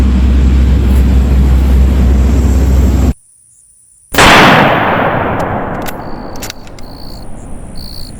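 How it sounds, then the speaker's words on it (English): A rifle fitted with a scope fires a single loud, close gunshot that cuts through steady outdoor hiss and insect noise, followed by a long fading echo rolling off the surroundings. "I'm going to put in a little bit of shooting with this rifle"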